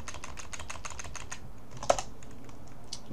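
Quick, light keystrokes on a computer keyboard as a file name is typed, a steady run of taps followed by a sharper click near the end.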